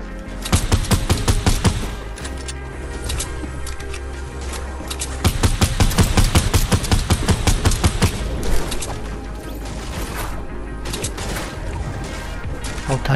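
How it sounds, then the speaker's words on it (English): Rapid bursts of automatic gunfire from a Fortnite Battle Royale match in Ice Storm mode, dense and sustained across the whole stretch, with overlapping shots and booming impacts at close range. "I know I heard gunshots over here."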